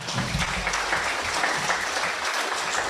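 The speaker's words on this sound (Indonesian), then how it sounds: "silakan tepuk tangan dulu Pak" An audience at the grand launch of the ATR/BPN Corporate University claps in steady, sustained applause, dense and even throughout, with no voices.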